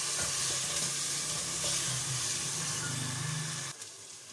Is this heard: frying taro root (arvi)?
yes